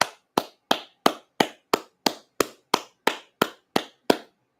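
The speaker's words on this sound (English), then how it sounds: "actual applause" One person clapping slowly: thirteen crisp, evenly spaced claps, each sharp and close, with silence between them and nothing else heard.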